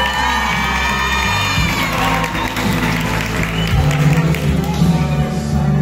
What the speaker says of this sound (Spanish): calurosos aplausos y sinceros de corazón a las quinceañeras